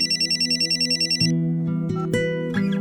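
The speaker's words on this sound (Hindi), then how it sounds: "तुम्हारा फोन बज रहा है" A telephone rings with a rapid, pulsing electronic trill, then stops and gives way to a few soft clicks and tones nearby; no one speaks.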